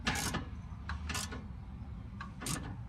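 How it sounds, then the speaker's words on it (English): A socket ratchet tightens a motor mount bolt on a Honda Pioneer 1000, giving three short bursts of clicking a second or so apart, quiet and close against a low background rumble. "I went and got a better socket ratchet"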